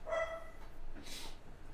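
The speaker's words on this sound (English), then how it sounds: "Shut that damn dog up!" A dog barks a few times at close range, short sharp yips standing out from a quiet room background with no talk.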